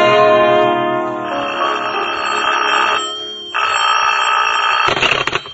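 A telephone bell rings loudly in a classic mystery radio drama, a sustained bright electronic trill with a short pause before it resumes, then a brief clatter as the receiver is picked up; no voices.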